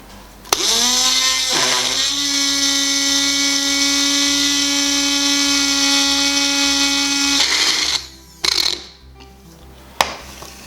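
Electric spice grinder whirring loudly and steadily as it grinds BBQ seasoning finer for a Central Valley style tri-tip, a high droning buzz lasting about seven seconds before cutting out, followed by a few short bursts.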